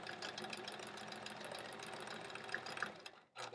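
A sewing machine stitching in the ditch along the seams of a quilt block, a fast steady mechanical whirring hum that runs continuously up close, then briefly stops before starting again.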